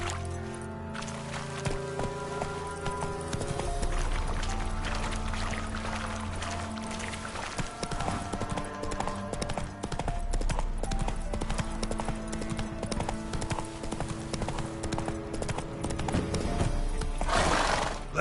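Horse galloping in The Witcher 3, a steady fast clip-clop of hooves that continues throughout, with a game music score and ambient sound underneath.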